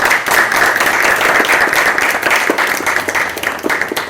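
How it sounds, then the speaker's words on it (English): Audience applause in a talk-and-debate hall, a loud, continuous roar of many people clapping that stays steady and dense throughout, with no voice on top. "I would give applause before all people."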